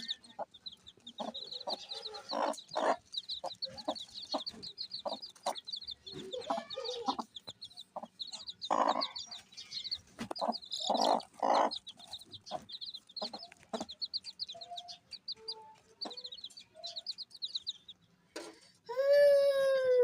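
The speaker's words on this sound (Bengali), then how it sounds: "যে মুরগিটা আমাদের কুচু বসেছিল সেই মুরগিগুলো বাচ্চা ফুটেছে ফুটফুটে বাচ্চা" A hen with six newly hatched chicks, heard close up. Rapid high peeping from the chicks runs almost nonstop over intermittent low clucks and rustling, and a louder, sharper call sounds near the end.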